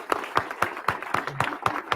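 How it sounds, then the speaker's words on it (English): An audience claps in a slow, even rhythm of about eight sharp claps spaced roughly a quarter second apart, crisp and fairly close, with no talking over them. "I want you to just start clapping a little bit for Dan Cummins"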